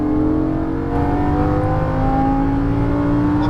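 A Lamborghini Gallardo LP550-2 accelerates at full power on a racetrack, its engine note climbing steadily in a loud, close, continuous roar with no talk over it.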